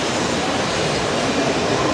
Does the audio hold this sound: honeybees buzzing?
no